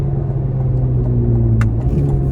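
2024 Chevrolet Corvette Z06 engine pulling hard out of a corner, a steady loud droning rumble with a rising pitch and a brief shift near the end.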